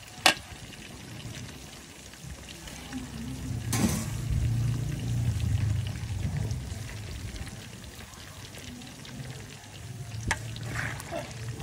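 Fried pork shanghai being drained, with a light pouring, dripping trickle of oil and a low residual sizzle, punctuated by a few sharp clinks near the start and middle.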